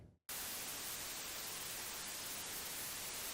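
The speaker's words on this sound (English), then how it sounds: "resulting in a hiss that is effective at canceling out ambience, such as in soundproof headphones." A steady, loud wall of white-noise static hiss fills the clip without change after a fraction of a second of near-silence at the start. It is flat, broadband and constant, with no voices.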